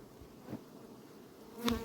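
Faint, low buzzing of bees humming quietly in the background, with a brief soft knock near the end.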